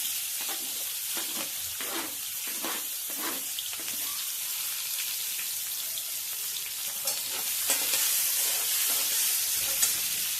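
Finely chopped onion frying in hot oil with crackled cumin seeds in a kadai, a steady bright sizzle with intermittent stirring scrapes, close and continuous, growing a little louder toward the end.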